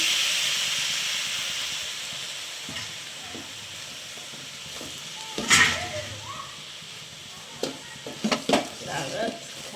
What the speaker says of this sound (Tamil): இப்போ நாங்கள் சிக்கன் குழம்பு விடுவோம்